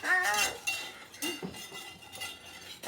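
A spoon scrapes and clinks against a pan while stirring simmering gravy for country fried steak, with scattered metallic taps and scrapes between quiet pauses, and a voice briefly audible in the background.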